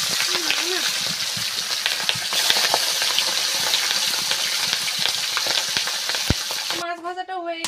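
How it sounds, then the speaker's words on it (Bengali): Large pond fish frying in a pan of hot oil, a continuous loud crackling sizzle with scattered pops, then a short voice right at the end. "মাছ ভাজাটা হয়ে গিয়েছে"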